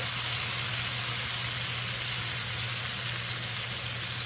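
Butter and lemon juice sizzle into a pan sauce after filleting striped bass, a loud, steady hiss of frying that carries unbroken throughout, close up, with no talking.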